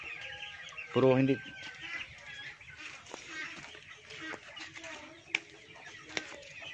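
Chickens cluck near a house: one loud, drawn-out cluck early on, then scattered faint clucks and clicks amid quiet background noise, with a brief spoken phrase.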